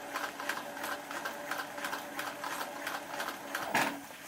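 A sewing machine stitches through rubber wetsuit material in a steady run of needle strokes, a brisk even chatter that continues throughout at close range.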